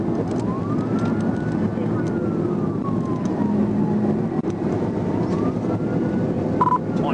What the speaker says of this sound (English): When Trooper Bird activated his emergency lights and siren